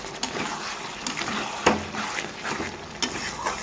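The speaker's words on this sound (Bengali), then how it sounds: "নাড়িয়ে চাড়িয়ে দেবো।" Mutton kosha being stirred in a pan, with soft scraping and sizzling textures and a few sharp utensil clicks against the metal, moderately close and steady with no talk.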